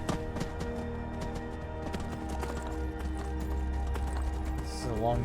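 Horse hooves gallop in the game Skyrim, a steady, close clip-clop rhythm running through the whole stretch beneath sustained background music.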